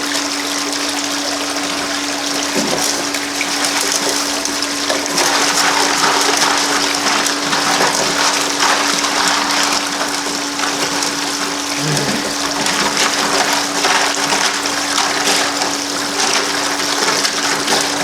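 Water rushing through a Gold Hog multi-sluice mini wash plant, a steady gushing flow with a constant pump hum underneath and occasional small splashes, close and continuous.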